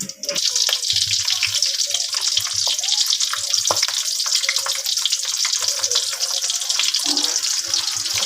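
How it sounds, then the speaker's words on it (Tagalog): Smoked salted fish (tinapa) frying in a pan, a steady close crackle and sizzle running throughout with small pops and spits, no talk. "Ayan, piprituin natin."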